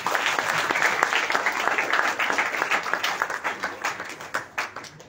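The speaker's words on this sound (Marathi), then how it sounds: "त्यांच्यासाठी एकदा आपण जोरदार टाळ्या वाजवा।" An audience at the inauguration of an international performing arts festival bursts into hearty applause, a dense wash of clapping that gradually thins into slower, separate claps.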